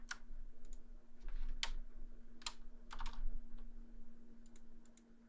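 Irregular bursts of clicking keys on a computer keyboard during a game jam judging session, close and fairly quiet over a steady low electrical hum.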